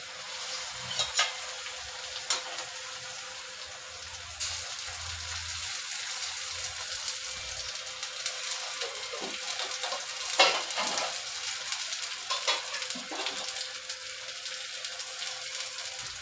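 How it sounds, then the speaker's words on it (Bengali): Mustard paste and browned onions fry in a pan with a steady, close sizzle, broken by occasional scraping stirs and spatters; no one speaks. "সর্ষেটা একটু ভাজা ভাজা করে নেব, তারপরে মশলা দেব।"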